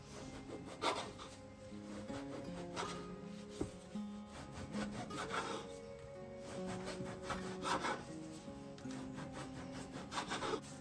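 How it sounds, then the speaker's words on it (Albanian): Knife slicing through a stack of ready-made filo pastry sheets for a quick spinach byrek, repeated close rasping strokes in a steady back-and-forth rhythm, quiet but distinct with no talk. "Do vazhdojmë t'i presim siç e shikoni në video."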